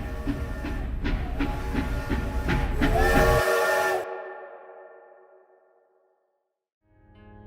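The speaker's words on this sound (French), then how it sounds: "on entend un train arriver à toute vitesse en arrière-plan" A cartoon train roars in from Tom and Jerry, a loud rumbling rush with whistle-like tones that swells, then cuts off abruptly and fades into silence before a faint low hum returns.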